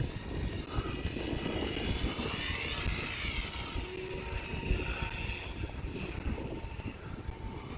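RC Fun Cub airplane powered by a 4S electric motor flying at about half throttle, a steady whining buzz with propeller drone that drifts slightly in pitch as it passes at a moderate distance, over outdoor wind.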